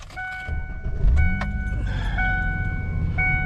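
Someone climbs back into a pickup truck: a door-open chime sounds in a steady beeping pattern over low engine and cabin rumble, with a soft thud of movement partway through.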